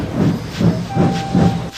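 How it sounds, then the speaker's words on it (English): A steam locomotive puffs out of rail yards, giving four strong rhythmic chuffs with hissing steam at a steady pace, close and loud, with a faint whistle-like tone in between. "Frieda and her train puffed out of the yards and onto the main line"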